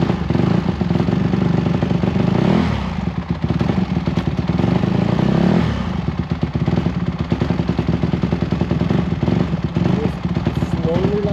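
Motorcycle engine running steadily and loudly up close while a learner works the clutch, with a rough mid-pitched drone and a slight dip in the middle, and people talking over it.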